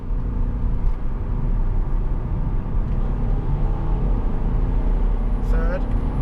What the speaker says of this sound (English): In manual mode, you can hear it in the gear.